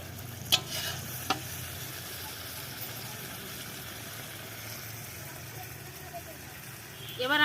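Chicken kosha sizzling and frying in a pan with a steady hiss, with a couple of sharp utensil knocks near the start and a scrape at the end.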